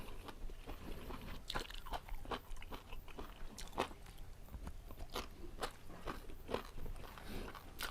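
Honey-pickled garlic is bitten and chewed, producing a close, steady run of crisp crunches and wet mastication with no talking.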